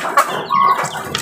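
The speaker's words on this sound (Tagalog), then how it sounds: "Asil yung sisiw." Asil chicken chicks give brief cheeping and clucking calls close by, a few short bright peeps over a soft background, with no talking.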